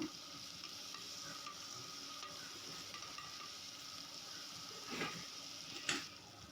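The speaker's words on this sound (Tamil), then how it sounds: "வதங்கினதும் இஞ்சி பூண்டு அரைச்சி வச்ச விழுது அதையும் சேர்த்து நல்லா பச்சை வாசனை போகிறதுக்கு வதக்கிடணும்" Onion, curry leaves and ginger garlic paste sauté in a pan for pepper mutton chukka, giving a steady low sizzle with a couple of louder stirring scrapes near the end, close and without talk.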